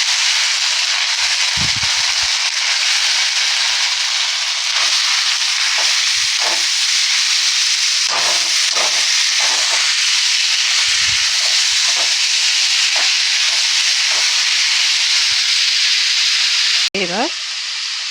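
Banana flower fries in a pan with cumin and ginger paste, giving a loud, constant sizzle throughout, broken by occasional soft knocks and scrapes from stirring.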